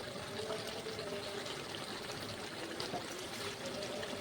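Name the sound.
pouring a little water into curry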